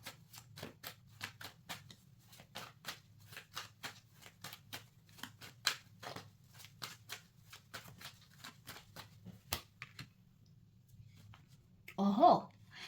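Tarot cards are shuffled by hand in a quiet room, many quick crisp riffling snaps close to the mic, ending with a card drawn, and someone speaks briefly at the end.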